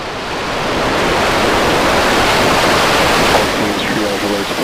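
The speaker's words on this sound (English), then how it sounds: "We have liftoff." SpaceX Starship SN10 rocket engines at liftoff on a high-altitude flight test, a loud, steady broadband roar that swells quickly and holds, like rushing surf, with a faint voice over it.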